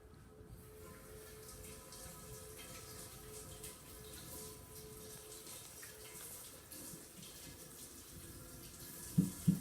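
Tap water runs steadily as a vegetable-filled container is rinsed under it, a faint, even splashing stream, with two small knocks right at the end.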